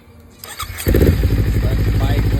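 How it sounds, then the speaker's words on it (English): A 2017 Kawasaki Ninja 300 motorcycle cranks briefly and catches, then settles into a loud, close, rapid-pulsing idle, with a voice talking over the start. "let the bike let it run for 30 seconds or so"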